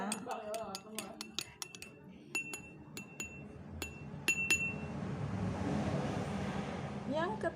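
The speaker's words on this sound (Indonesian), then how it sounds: "Setelah itu kita aduk yang pertama," Oil being stirred in a glass for a simple school experiment on pure substances and mixtures, heard as a run of sharp clinking taps of a stirrer against glass early on, then fading into a softer, steady background.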